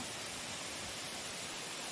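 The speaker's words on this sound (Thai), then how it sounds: "นี่คือ เรามาถึงแล้ว นี่คือ น้ำตก" A forest waterfall on a camping trip roars as a continuous, even wash of falling water, heard alone at a steady moderate level.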